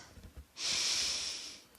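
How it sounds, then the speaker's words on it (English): A single deep breath drawn in through the nose lasts about a second. It is a close, clear rushing hiss that follows faint background sound, taken during back stretching exercises. "Take a few deep breaths"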